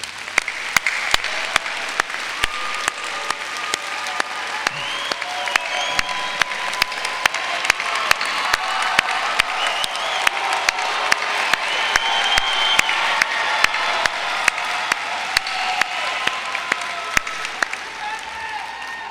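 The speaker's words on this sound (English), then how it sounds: "Let's give them a round of applause." Long, sustained applause from a large crowd honoring graduates at a university arts and sciences commencement, dense clapping rolling steadily throughout with faint voices and cheers mixed in.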